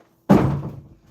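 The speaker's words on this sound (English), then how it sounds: "Don't kick my door." A single heavy thud as someone kicks a door, loud and close, with a short resonant boom that fades over about half a second; no talking.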